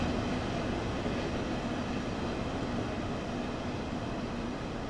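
A steady, dense video game locomotive rumble from Train Sim World 2, with a constant droning hum, heavy and unbroken for several seconds.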